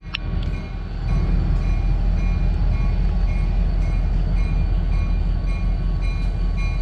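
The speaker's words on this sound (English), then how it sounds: "we're departing the Akron North Side Station, headed north." A Cuyahoga Valley Scenic Railroad train departs Akron North Side Station, heard from on board as a loud, steady low rumble of rolling wagons with faint rail clatter throughout.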